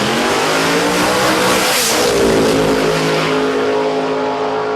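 Turbocharged and supercharged drag racing cars accelerate hard down the strip at a drag racing event, with a loud, continuous engine roar that rises and shifts in pitch, heard alone.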